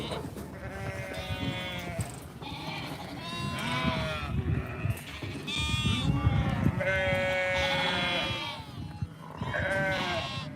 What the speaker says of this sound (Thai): แยกลูกแกะก็จะ เนี่ยค่ะ ไล่เข้าคอกแบบนี้เลยนะคะ